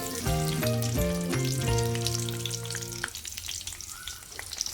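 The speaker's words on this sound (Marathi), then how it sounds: "मोहरी थोडी तडकली की त्यामध्ये जिरं सोडून घेऊ आपण" Mustard and cumin seeds sizzle in hot oil, a steady near hiss with several ringing utensil clanks early on that give way to quieter crackling.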